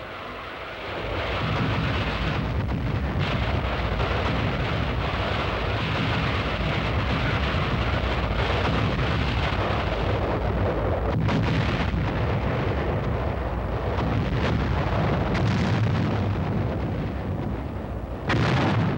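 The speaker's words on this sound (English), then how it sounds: "a new weapon came into use against the Germans: massed rocket fire" Massed rocket artillery fired against German forces, a continuous loud roaring barrage of overlapping launches and blasts rumbling on without a break, heavy and dense throughout.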